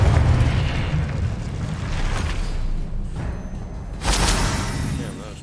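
A Confringo blasting spell in Hogwarts Legacy goes off as a deep, rumbling explosion with a low boom, followed by a second burst and whooshing debris over continuous game noise.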